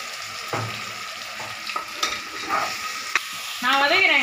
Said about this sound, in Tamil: நான் வதக்கிறேன் இப்போ